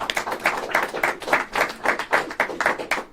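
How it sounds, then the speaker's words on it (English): A school assembly audience claps to honor an elementary school named a Blue Ribbon School, a steady stretch of brisk, rhythmic hand clapping from a modest crowd with no voices over it. "Let's give them a huge round of applause."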